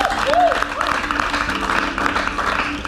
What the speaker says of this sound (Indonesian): Boleh tepuk tangan dulu untuk mereka berdua?